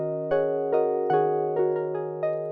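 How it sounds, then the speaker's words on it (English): Arturia Jupiter 8 harp synth patch played completely dry with no reverb: about six plucked notes in an uneven rhythm, each with a bright sharp attack over a sustained, even tone, close and clear with no voices. "it's the harp patch that's part of the Jupiter 8 from Arturia"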